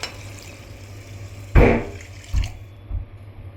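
Water is poured into rice in a pot in a few separate splashing gushes, the first the strongest, over a quiet background.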